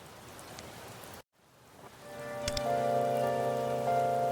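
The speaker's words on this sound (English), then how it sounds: "Oh, it's raining now." Soft, steady rain patters in Persona 5: The Phantom X, briefly cutting out before returning with a low ambient tone and music layered underneath.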